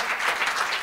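Brief, dense clapping from an audience at a symposium, a steady wash of applause at moderate loudness with no pause.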